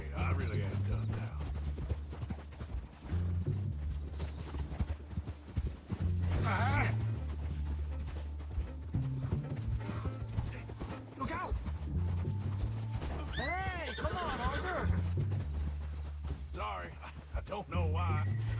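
Horse hooves clip-clop in the Red Dead Redemption 2 video game, with a whinny rising midway, all running under steady music and bursts of speech throughout.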